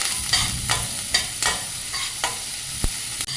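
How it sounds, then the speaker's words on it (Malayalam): Leftover upma with curry leaves is sautéed in a pan: a constant close sizzle with a spatula scraping and stirring in irregular strokes, several sharp knocks among them, loud and near. "നമുക്ക് ആദ്യം ഉപ്പുമാവ് തയ്യാറാക്കി നല്ല പോലെ വഴറ്റാം"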